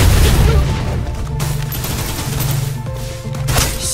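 Gunfire from suppressive fire in the Snowbreak video game, a dense, loud, continuous fusillade of rapid automatic shots with booming impacts throughout, no speech over it.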